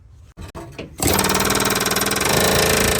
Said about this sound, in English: Hit it with the air hammer.